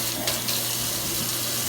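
Water runs steadily from a tap into a sink, a constant close hiss and splash with no pauses.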